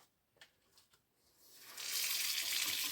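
A faint tap or two, then water starts running from a tap, building into a steady, loud hissing stream that continues to the end, used to wet a scalp during a head shave.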